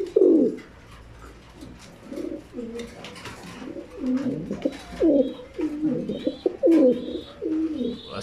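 A nesting pair of pigeons coos repeatedly up close, with low, throaty rolling calls coming in uneven bursts, a few faint chirps around them and some quiet voices in the background.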